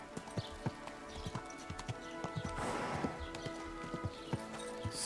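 Steady, light clip-clop of a horse's hooves trotting at an even pace in the video game Kingdom Come, fairly quiet, with a brief rustling swell in the middle.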